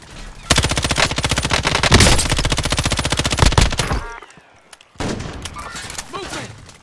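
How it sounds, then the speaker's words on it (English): Sustained machine gun bursts and gunshots roar loud and close in the Call of Duty: Modern Warfare video game, breaking off briefly before another volley of rapid fire. "Taking direct fire."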